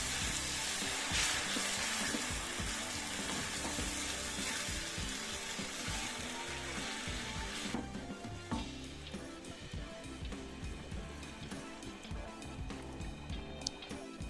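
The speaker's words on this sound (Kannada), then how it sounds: "ಕುದಿಯೋಕ್ಕೆ ಬಿಡಬೇಕು" Steady sizzling and bubbling of egg curry simmering in a pot, with occasional stirring clinks and shifting liquid, continuous throughout with no voices.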